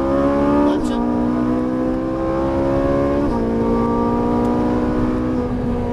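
Ferrari 458 Italia accelerating on a race track in Las Vegas, a loud close engine roar climbing in pitch, dropping sharply with a gear shift near the start and again partway through, then climbing once more.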